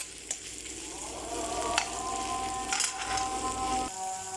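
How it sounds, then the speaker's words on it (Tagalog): Tilapia fries in a pan for kaldereta, a soft, steady sizzle and crackle of hot oil close by, with a few light clinks partway through and no one talking. "nagpiprito ako ng tilapia pang kaldereta"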